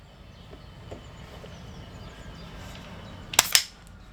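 An HDR.50 air gun fitted with a Z-Ram extender fires through a chronograph, giving two sharp, loud cracks in quick succession near the end after a stretch of quiet room noise.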